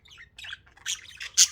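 A pet bird gives several sharp, rough squawks close by, a few short bursts rising to a louder final cry.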